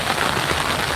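Sudden rain falling on a farm field in Gujarat, a dense, even hiss of drops, fairly loud and continuous for a brief moment, with no one speaking.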